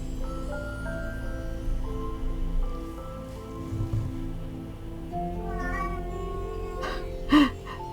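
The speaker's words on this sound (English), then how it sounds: "Please excuse my cat there in the background." A pet cat meows repeatedly in the background of a quiet indoor room, with drawn-out, moderately loud cries that rise in pitch toward the end.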